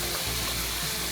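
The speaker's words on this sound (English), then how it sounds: "Steak is currently cooking at medium" Steak sizzles in a pan over medium heat, a continuous close hiss and crackle of frying that stays fairly loud and even through the brief moment, with no talking.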